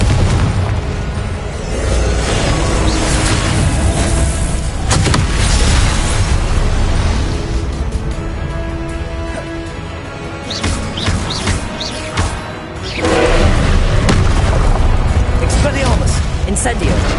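Repeated explosive blasts and bursts from Confringo blasting curse spells in a Harry Potter video game, loud and dense with crackling debris, layered over continuous talk and other spell effects.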